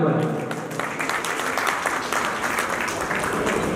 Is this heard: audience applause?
yes